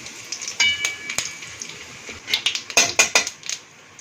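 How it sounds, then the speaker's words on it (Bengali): Cumin, dried chillies and bay leaf crackle as they hit hot oil left over from frying fish, a dry spluttering tempering with scattered sharp pops and clinks, denser bursts toward the end, no talking. "মাছ ভাজা তেলের মধ্যে জিরে, শুকনো লঙ্কা আর তেজপাতা ফোড়নে দিলাম।"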